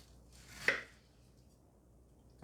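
A single knife stroke chops through a pineapple ring on a board, one brief close crunch and thud in a quiet kitchen.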